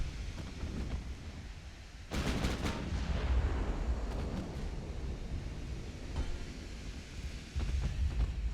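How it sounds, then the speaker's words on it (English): A torpedo launch in a naval video game set in the dreadnought era: a sudden loud, deep booming rush starts partway through and rumbles on, with another heavy burst near the end, and no talk. "Yeah, there's a torpedo launch."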